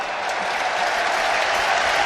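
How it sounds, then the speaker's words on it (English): Broad, steady applause from a large stadium crowd at a Southampton v Wrexham football match, a continuous wash of distant clapping. "gets a terrific round of applause"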